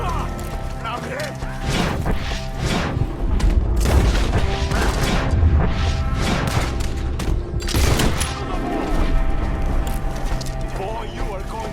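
Rapid gunfire crackles through a chaotic Red Dead Redemption 2 shootout, shots overlapping in dense, uneven bursts alongside booming impacts while voices shout over the fighting.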